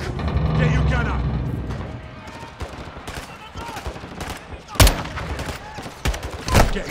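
Gunfire from the Call of Duty Modern Warfare II campaign: rapid bursts of rifle fire and sharp loud shots, with two heavy blasts near the end, under shouted voices and in-game dialogue.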